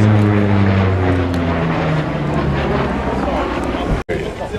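A Grumman Bearcat propeller aircraft flies at the Duxford Flying Legends airshow, its engine droning steadily with a falling pitch as it passes. A loud announcer talks over it.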